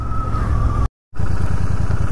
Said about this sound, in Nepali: beer, royal Enfield beer, the new bike